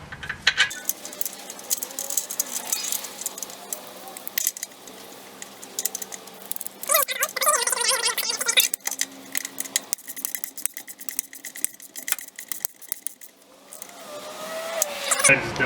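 Bolts on a strut assembly fitted to an R32 Nissan Skyline GTS25 are tightened by hand with a ratchet, giving bursts of close metallic clicking and clattering with pauses between them.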